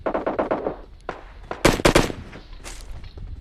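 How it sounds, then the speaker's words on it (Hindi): In PUBG Mobile, distant bot gunfire comes as a quick burst of about six rapid shots, then a lone shot, then another tight cluster of louder shots and a final crack, with no speech. "अब देखो मेरे को बॉट की फायरिंग आती है उस तरफ से"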